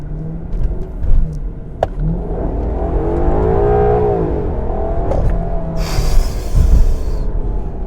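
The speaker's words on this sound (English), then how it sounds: "Let's do one more rev." A Ferrari sports car engine revs up to a rising whine and falls back, loud and close, with a sharper burst of noise near the end.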